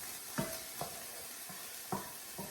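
Vegetables soften in a pan beside browned hash browns, a soft steady sizzle with four or five distinct scraping knocks of a spoon stirring, close and quiet, no voices.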